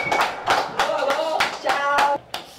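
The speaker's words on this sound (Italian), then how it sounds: "Voglio un grandissimo applauso per Ivolta!" A few people clap for a DJ in bursts of separate, sharp, close hand claps that start and stop irregularly, with no crowd roar behind them.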